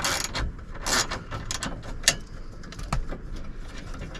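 A ratchet works loose the bolts on a 2006 Ford Crown Victoria Police Interceptor, with clicking pawl and metallic clanks and knocks over a busy workshop background, near and moderately loud.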